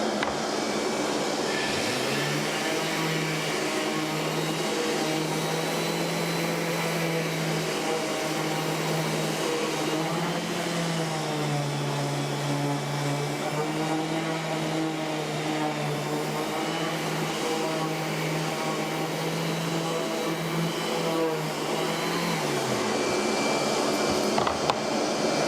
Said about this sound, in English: So I've just connected it to the shop vac outside of what will be the system.